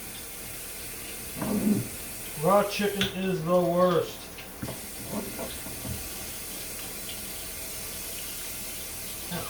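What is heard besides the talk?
hot tap water running while washing hands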